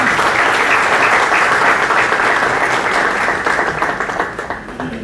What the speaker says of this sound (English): Let's welcome Mr. Avnish Kumar with a huge round of applause.